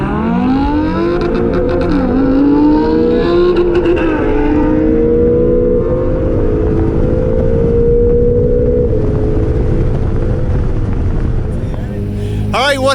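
An NSX drag racing a Huracan: a loud, continuous engine roar with climbing, shifting harmonics as the cars accelerate. It stays close and dominant for the whole stretch, easing slightly near the end.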